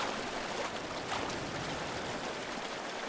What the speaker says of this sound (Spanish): hay un ruido aquí de agua cascada y no hay ninguna cascada